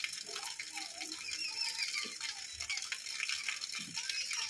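Eggless semolina sponge cake batter being whisked by hand in a bowl, a steady close rattling and clinking of the whisk with a wet, sloshing texture, continuous throughout with no talking.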